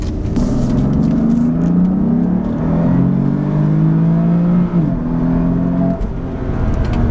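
A BMW F80 M3 with a Bootmod3 stage 1 tune accelerating hard in sport mode, its engine droning and rising steadily through the revs from inside the car, with one brief dip at a gear change before climbing again.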